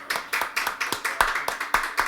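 A Korean church congregation in Chicago claps in welcome at a Sunday service, a steady rhythmic beat of roughly four claps per second, loud and close, with voices faintly underneath.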